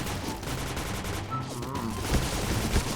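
Rapid bursts of gunfire from a low-recoil gun in a shooter video game, a dense steady volley with game effects and background music underneath, no voices.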